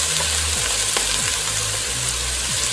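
Onion frying in oil in a pan over medium heat, a steady dense sizzle with a few scraping stirs at regular intervals, close and fairly loud, with no voices.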